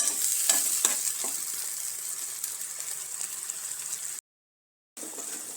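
Soybean gravy masala frying and being stirred in a pan, a steady sizzle with scraping stir strokes near the start, running continuously before a brief gap of silence and then resuming.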